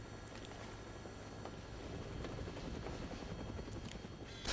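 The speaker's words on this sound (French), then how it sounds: "On dirait que j'ai bien fait de prendre un hélicoptère." Steady helicopter rotor noise in the Dead Rising Deluxe Remaster game, a continuous close throbbing drone that holds at the same level throughout.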